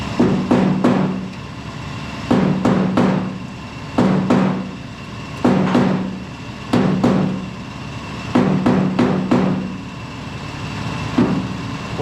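Hammer blows on rusty metal guards of a Ford F600 race truck, struck in quick clusters of two to four sharp metallic hits, repeated every couple of seconds and loud and close, with no talking.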